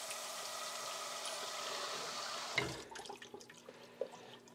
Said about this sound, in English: just running some fresh water through the hose.